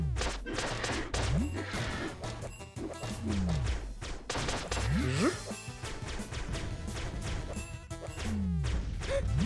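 An explosion hits the player in the game Flinthook: a loud crash and boom rises out of a dense, busy mix of game music, swooping effects and impacts that keeps going the whole time.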